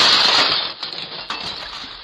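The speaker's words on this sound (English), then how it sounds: "he decided to just jump through my glass front door" A burst of breaking glass as a man jumps through a glass front door, loud bright crashing at the start, then scattered clinks and tinkles as fragments fall.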